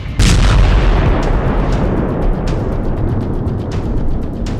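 Military strike by US forces on an Iranian weapons depot in Syria at night, heard as a loud, dense barrage of booms and gunfire bursts, with a sharp blast at the start and repeated cracks over a continuous rumbling roar.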